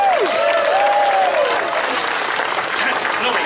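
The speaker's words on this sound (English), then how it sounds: "can we have a big round of applause for Nobby, the Norfolk Hall?" Crowd applause at a sheep show at the Great Dorset Steam Fair, a dense steady clatter of many hands clapping throughout, loud and close, with a voice briefly rising over it at the start.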